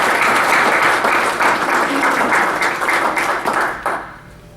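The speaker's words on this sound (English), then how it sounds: "I'd just like to ask everybody to give Greg a round of applause" Applause from a state conference audience fills the room with dense, steady clapping, loud and close, then tapers off near the end.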